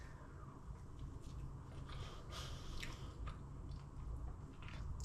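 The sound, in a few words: chewing crusty cheesy bread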